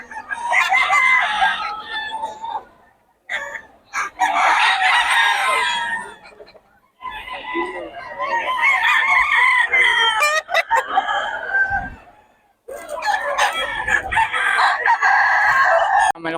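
Gamefowl roosters crow repeatedly in long, strained calls with short pauses between them, loud and close, with clucking and scattered chicken noises in between and no talk.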